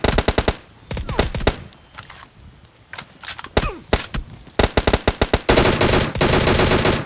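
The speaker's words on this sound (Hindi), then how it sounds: "यह बॉट झाड़ियों में छुपकर कब की गोलियां चला रहा है" Automatic gunfire from a video game, with an M249 light machine gun and a bot firing from bushes, comes as rapid bursts of rattling shots separated by short pauses, loud and close, ending in sustained heavy fire.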